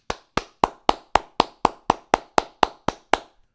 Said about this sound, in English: I gotta stop and clap